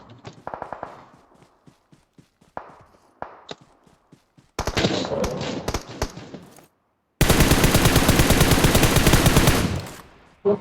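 Automatic gunfire in PUBG Mobile on the Sanhok map: scattered single shots and short bursts, then a dense volley, and finally a long, loud, sustained spray of rapid fire ending in one last shot.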